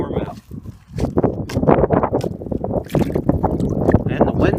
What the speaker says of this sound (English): And the wind blows like you wouldn't believe.